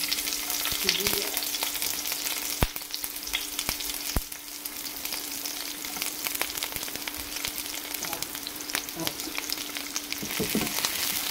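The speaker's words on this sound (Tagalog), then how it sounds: "igisa ko lang itong sibuyas" Chopped onion sautés in hot oil, giving a continuous dense sizzle with occasional clicks and scrapes of stirring throughout.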